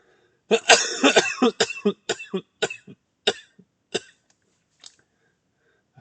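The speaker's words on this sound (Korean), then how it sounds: "기침 나갔고" A fit of coughing bursts out close by, rapid hacking coughs that gradually space out and fade into a few lighter coughs.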